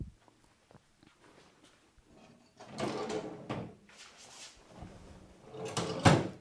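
Drawers of a white and black wooden file cabinet slide open and shut, giving a few soft, brief rumbling glides close by in a quiet room.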